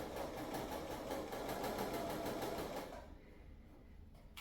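A sewing machine stitches quilt blocks for a disappearing four-patch quilt in a fast, even, rhythmic run for about three seconds, then stops, leaving only faint background hiss.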